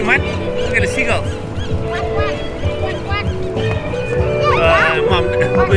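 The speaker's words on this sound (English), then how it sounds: "There's the sound of a duck." A duck calls out near Fisherman's Wharf in San Francisco: a run of nasal, honking quacks amid busy waterfront chatter and people talking, with the calls rising clearly above the crowd noise.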